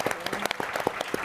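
Scattered applause at an interior design event, a modest group clapping in uneven, distinct claps, moderately quiet and brief.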